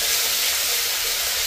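Ginger-garlic paste hitting hot oil in a pan over a village wood-fired chulha while country chicken cooks, a loud, dense, steady sizzle close up with no talking.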